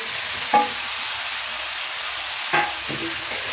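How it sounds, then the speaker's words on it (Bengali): Boiled banana flower tossed into a pan with slit green chillies for a Bengali mocha ghonto, giving a steady sizzle of frying broken by two or three brief scraping stirs, close and moderate in level. "এবারে দিয়ে দেবো সিদ্ধ করা যে মোচা সেটা দিয়ে দিচ্ছি"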